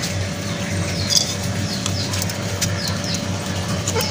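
Pigeons near a cage give soft coos and faint flutters against a steady background hum, with no talking.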